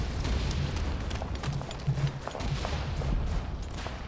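Gunfire in the World War 1 trench shooter Verdun: scattered distant rifle and machine-gun shots popping over a low rumbling battlefield din, muffled and fairly faint.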